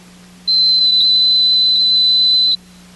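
A multimeter continuity test sounds a steady electronic beep tone, single and unbroken, for about two seconds over a faint low hum, then cuts off cleanly.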